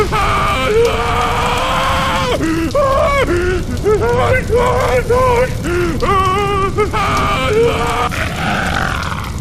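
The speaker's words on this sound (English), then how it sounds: "That is like the worst scream" Harsh, strained screaming and grunting cries from a character in Half-Life 2, repeated in loud bursts across the whole stretch, with game sounds underneath.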